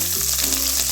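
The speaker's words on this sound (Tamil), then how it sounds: "அதனால் இப்போ சின்ன வெங்காயம் போட்டுக்கலாம்." Small onions (shallots) dropped into hot oil, giving a loud, close burst of sizzling and spattering with a low steady hum underneath, very brief.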